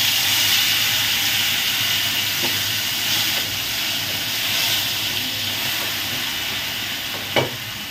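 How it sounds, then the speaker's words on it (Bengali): Ginger, garlic and onion paste hitting hot oil in a home kitchen pan, a steady loud sizzle and spatter throughout with one sharp clink near the end. "তেলের মধ্যে এই আদা রসুন পেঁয়াজ বাটাটা যদি দিই না, সঙ্গে সঙ্গে একদম ছিটকিয়ে যায় চারিদিকে।"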